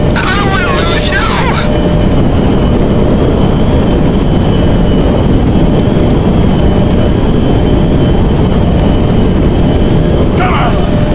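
A shot-down plane roars continuously as it falls in GTA 5, a loud sustained engine drone with voices shouting over it.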